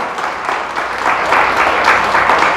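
Church congregation applauding during a Spanish-language sermon, a loud, steady wash of many hands clapping together that swells slightly midway and continues throughout.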